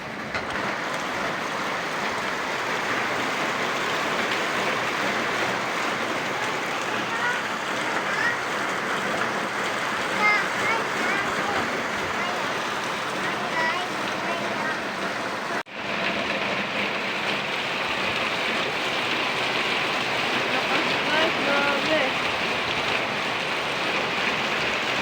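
Very heavy rain pours down steadily in Makati, a dense and unbroken roaring hiss that stays loud throughout with no talking.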